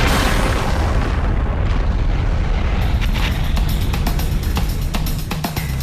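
A styrene tanker explodes into a loud, roaring rumble that fills the air, followed by a steady stream of crackling pops and bursts as debris and flames continue.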